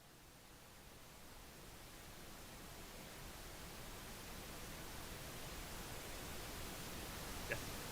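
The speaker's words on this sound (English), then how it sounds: "So this is kind of directly from the simulation, and it's more or less this kind of thing, flicker noise." Steady broadband flicker noise generated from a turbulence simulation, a continuous hiss with a soft rushing, rain-like texture, rising slightly in level and running alone throughout.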